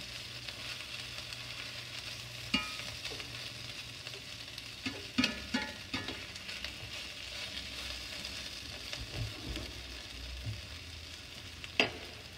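A breaded wishi mushroom frying in a pan over medium heat, giving a steady close sizzle with a few soft clicks and taps of utensils against the pan.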